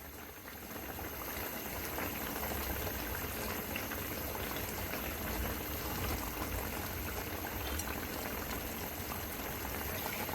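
Catfish curry bubbling on the stove as the gravy cooks down, a soft, even simmering fizz with steady bubbling and no talk, fairly faint throughout.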